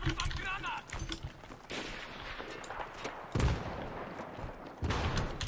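Battlefield 3 multiplayer gunfire on Noshahr Canals, sharp rifle bursts and single shots scattered through the clip, with a player speaking between them.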